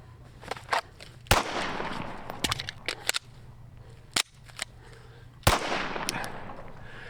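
Pistol shots from a shooting drill with a reload: sharp, loud cracks spaced irregularly, with clicks and handling noises of the magazine change between them, heard close with no talk.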